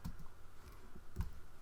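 A computer keyboard gives a couple of faint, separate key clicks in a quiet room, with no talking.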